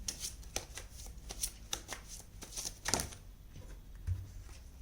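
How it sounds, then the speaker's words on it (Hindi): Tarot cards being shuffled at a reading, close up: a steady run of soft, papery riffles and flicks with brief sharper snaps, continuing alone without talk. "चलिए कुछ और कार्ड्स निकालते हैं नेक्स्ट एक्शन के लिए"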